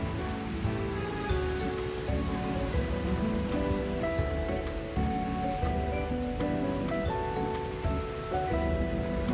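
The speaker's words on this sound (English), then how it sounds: "I have my groceries here, and it's still raining." Rain falls outdoors on a rainy day in China, a steady broad patter of drops hitting surfaces that runs unbroken and fairly loud, with faint tonal sounds underneath and no speech.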